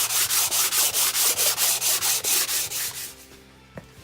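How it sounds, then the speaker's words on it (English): A Triumph Stag V8 cylinder head is rubbed back and forth with emery cloth on the block, a steady rhythmic scraping of about a dozen even strokes, close and alone, ending with a faint clunk. "just changing over the sandpaper or emery cloth from time to time over the top of the block"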